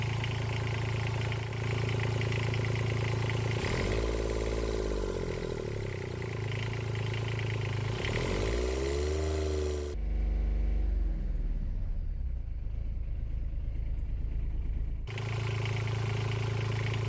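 Small turbocharged Kubota D722 diesel engine idling in a Honda, a steady low rumble with clattery texture that swells and dips a few times, briefly dropping near the end before resuming; no voices.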